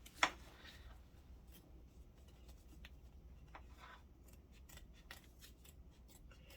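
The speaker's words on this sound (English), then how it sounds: "you have a pair of double curved scissors, because you really do need to get up and over the rim of the hoop" Double curved scissors trim fabric stretched in an embroidery hoop for freestanding lace, giving one sharp, close snip at the start followed by faint rubbing and handling sounds in a quiet room.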